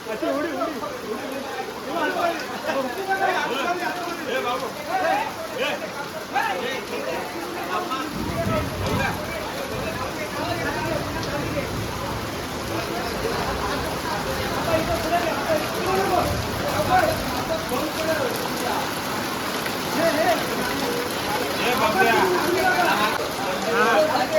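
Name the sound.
heavy rain falling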